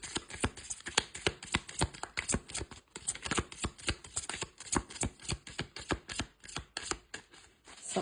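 Tarot cards are shuffled close up in a quick, even run of crisp riffling slaps that goes on through the whole stretch, with no voice.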